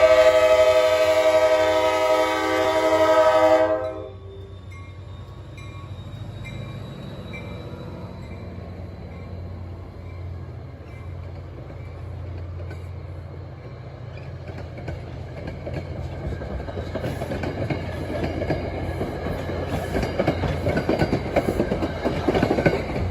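A horn sounds loudly at first, then an NJ Transit EMD F40PH-2CAT diesel locomotive rumbles and clatters as it pulls away from Ramsey station with a passenger train, the rolling noise slowly growing.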